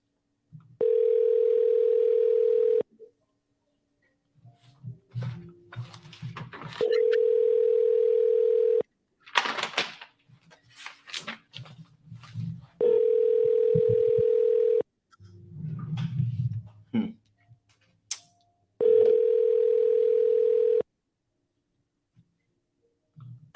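Outgoing call on a phone line with repeated steady ringback tones, four two-second rings separated by pauses, with faint shuffling and clicks in between and no talking.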